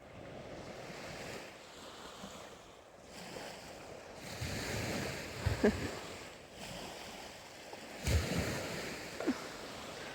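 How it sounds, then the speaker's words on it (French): Ocean waves roll in and break on the shore in slow surges, with steady wind noise and a few brief louder splashes. "C'est tellement fun en plus entendre le son des vagues"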